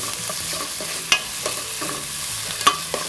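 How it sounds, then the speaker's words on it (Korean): Vegetables and fatty pork shoulder stir-fry in chili oil, a close continuous sizzle broken by a few sharp clanks of a utensil against the pan. "볶아주세요"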